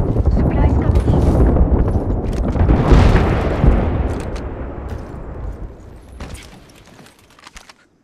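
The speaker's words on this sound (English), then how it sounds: "Heads up, you have an airstrike coming in." An airstrike in the shooter game Apex Legends lands as a heavy, roaring barrage of blasts that rumbles loudly for several seconds, then slowly fades, with voices talking over it.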